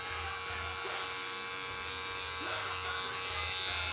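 Electric hair clippers with a number 1 guard buzz steadily and close up while cutting curly hair at a barbershop, a continuous motor hum running throughout.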